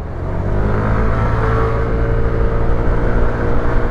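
Yamaha NMax scooter accelerating hard from a standstill to 50, a steady loud engine drone with rising pitch that holds throughout, close and continuous.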